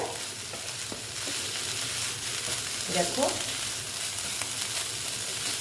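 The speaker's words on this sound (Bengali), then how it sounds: "আমার শাক ভাজাটা মোটামুটি হয়ে গেছে" Stem amaranth greens fry in a pan with a steady, continuous sizzle throughout, a brief stirring scrape near the middle, and a single short spoken word.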